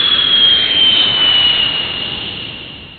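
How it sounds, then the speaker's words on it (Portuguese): An airplane's jet engine roars loudly with a high whine over it. The roar holds steady, then slowly fades as the aircraft passes, with no voices. "É o avião."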